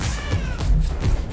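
A man imitates a cat with a drawn-out meow, loud and close, over some thumping and background noise from a Fortnite-themed real-life emote challenge.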